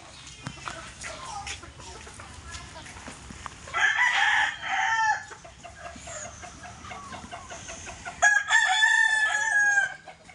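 Gamecock roosters on a chicken farm crow in several distinct bouts, loud and close, with softer clucking and other farm noise between the calls.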